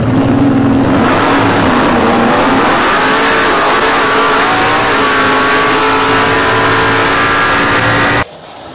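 A roughly 2000-horsepower, 980-kilo drag racing car engine revs hard and very loud up close, its droning pitch climbing steadily for about eight seconds before cutting off abruptly into quieter background.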